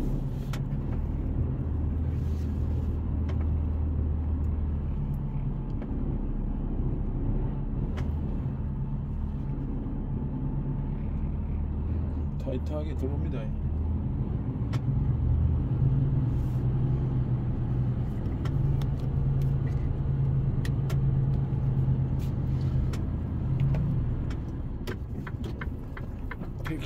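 A container truck creeps slowly in manual gear across a narrow bridge, its engine a steady low rumble throughout, with a faint voice speaking briefly over the drone.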